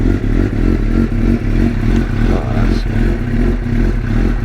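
A motorcycle engine runs close and loud just after a stator replacement, with a steady rapid pulsing idle and some mechanical clatter throughout.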